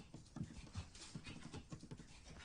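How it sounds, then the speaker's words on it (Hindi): A dog pants rapidly in a quiet indoor scene, a faint rhythmic series of breathy huffs with a few low yelping sounds, no speech. "ये कैसा कुत्ता है? घर वालों पर ही भौंकता है।"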